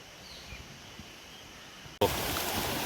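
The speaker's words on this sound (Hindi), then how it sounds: "इतनी रफ्तार से नहर में पानी आ रहा है" Fast water rushing through a canal fed by the Barati Rauf waterfall, a steady broadband roar that jumps sharply louder partway through, as if close to the flow, with no voices.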